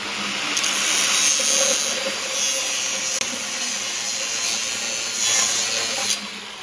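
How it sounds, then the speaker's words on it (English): Tack welding on a rat rod frame, a steady loud crackling hiss that runs almost unbroken, with a few brief surges and a sharp click near the middle. "That was a good tack weld, wasn't it?"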